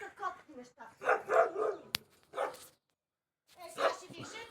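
A dog barks in a yard with a cat nearby, loud yelping barks in bursts mixed with a person shouting angrily, then a short silence before more barking and yelling.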